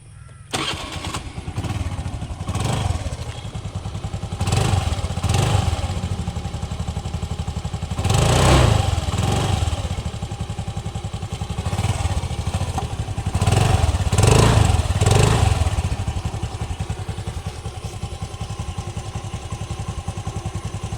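An engine is started and left running, a steady close idle with a rhythmic thumping pulse and occasional revving swells, with no talk over it.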